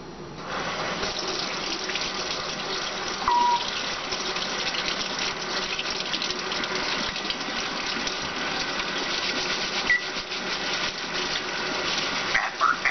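Steady running water from a tap pours continuously for the whole stretch, a full hissing gush with small clinks near the end and no talking.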